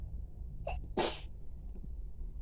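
A baby gives one short sneeze, a quick sharp burst with a tiny intake just before it. It sounds close, over a low steady hum in a home room, with no talking.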